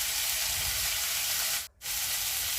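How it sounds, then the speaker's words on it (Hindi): Chopped tomatoes frying in a pan, a steady broadband sizzle that fills the clip at close range, broken by one brief gap of near silence partway through. "टमाटर को हल्का सा मैसी होने देना है, इसलिए थोड़ी देर पर चलाते हुए इसे अच्छी तरह से भून लेना है"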